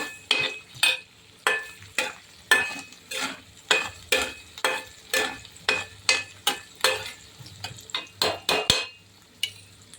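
Onion roasting in a pan, rhythmic stirring strokes about twice per second scrape and clink against the pan over a soft sizzle, close and clear with no talk.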